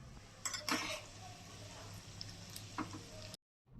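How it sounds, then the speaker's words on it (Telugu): Chana dal, urad dal, fenugreek seeds, mustard seeds and cumin frying in hot oil for tamarind pulihora, giving a steady close sizzle with a few light clinks and stirring scrapes before it cuts off abruptly. "ఇప్పుడు కొంచెం శనగపప్పు, మినప్పప్పు, లైట్గా మెంతులు, ఆవాలు, జీలకర్ర వేసుకొని 1 నిమిషం పాటు చక్కగా వేయించుకోవాలి."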